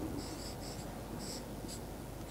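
Pen or pencil scratching on paper in short bursts of strokes, fairly close and quiet over a steady background hiss, as in a kindergarten writing lesson.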